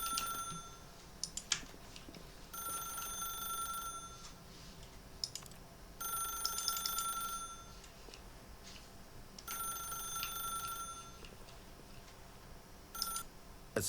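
Telephone ringing in The Stanley Parable video game, a bright electronic ring in four repeated bursts with short pauses between them, over a faint low room hum with no talking.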